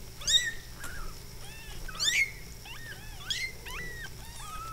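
A litter of kittens, including a brown mackerel tabby and white, giving repeated high, thin mews and squeaks in short bursts over a quiet background hum, with no talking.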